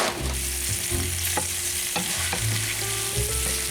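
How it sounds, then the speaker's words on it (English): Pork chops searing in a hot pan, a constant loud sizzle with periodic scraping and shifting, no voices. "Like I said, we're just wanting to sear them a little bit."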